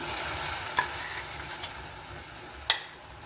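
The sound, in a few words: ground masala paste added to a sizzling pan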